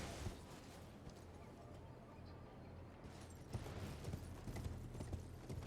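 Horse hooves clip-clopping in the video game Elden Ring, a faint, rhythmic trot of steady hoofbeats with a few louder steps, under low background sound.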